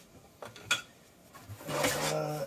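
Spatulas, kitchen knives and a fillet knife for fishing are handled and packed into a canoe barrel, giving a few light metallic clinks followed by a louder, sustained clattering rattle close by.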